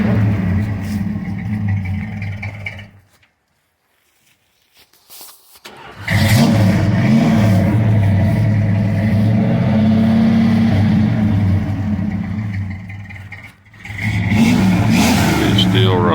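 A 1983 four-wheel drive short bed truck runs loud and close: a deep, rumbling engine note, then a brief drop to near silence, then a steady sustained rev with a short dip before it picks up again.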